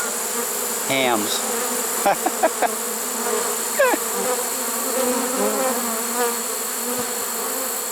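Honey bees swarming close around a swarm trap, a dense continuous buzzing hum with individual bees zipping past the microphone in rising and falling whines, and a brief word spoken once.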